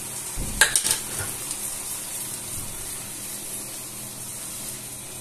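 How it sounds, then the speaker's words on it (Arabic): Sauce being stirred in a frying pan while cooking fish with mustard and cheese sauce: a few quick scraping and clinking strokes near the start, then a soft steady sizzle continuing quietly on its own. "بنحرك الصوص كده كله على بعضه كده في طبعا في الطاسه بتاعتنا كويس"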